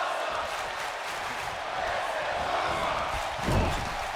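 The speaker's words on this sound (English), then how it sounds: "The crowd is loving this action here tonight" Video game wrestling arena crowd cheering steadily throughout a ladder match, a broad continuous roar with a brief swell near the end.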